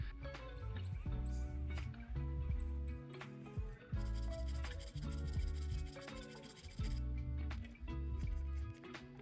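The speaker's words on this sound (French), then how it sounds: "il faut percer un trou puis l'agrandir à l'aide d'une lime fine" A fine file is worked back and forth to enlarge a hole in an enclosure, giving repeated close scraping strokes in a steady rhythm with short pauses between passes.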